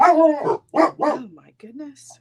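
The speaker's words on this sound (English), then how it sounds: "I apologize for the barking" A small indoor dog barks sharply in a few close, loud yips, then lets out a softer whine, while a woman reacts with speech over the barking.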